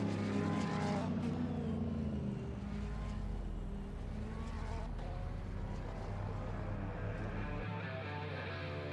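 GT3 race cars finishing a race at Laguna Seca in a racing video game: a continuous layered engine drone from several cars, steady and fairly loud, with a buzzing tone throughout and a low hum that cuts out near the end.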